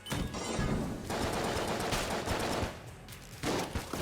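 Rapid gunfire from the Betrayer/Blasphemy gun in Enter the Gungeon, a pixel-art bullet-hell game, rattling in loud dense bursts with a brief lull before the shooting resumes, close and alone without talk.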